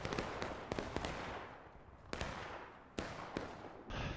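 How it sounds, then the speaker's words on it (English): Artillery and scattered gunfire from a large video game battle, heard as several sharp booming reports with decaying tails, spaced irregularly over a constant background rumble. "That looked like a good arty shot."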